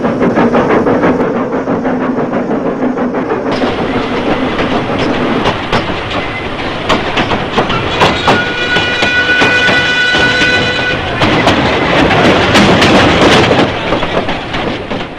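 A train runs on rails with a loud, close, rhythmic clickety-clack, steady wheel rumble and sustained tonal whistle-like notes partway through.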